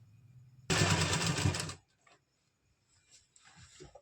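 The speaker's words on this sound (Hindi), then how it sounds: "अभी हम सिर्फ इस तरह से इसको फोल्ड करते हुए पूरे में सिलाई लगा देंगे" A sewing machine stitching a folded belt onto palazzo trousers, one close, fast whirring run of about a second, followed by quiet fabric handling and faint clicks.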